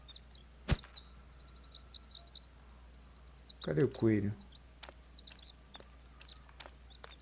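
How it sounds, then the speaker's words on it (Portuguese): Small bird chirping in the survival video game The Forest: repeated bright, quick chirps and trills close by, with insect-like ambience, a sharp click, and a short spoken line in the middle. "Isso aqui é um passarinho."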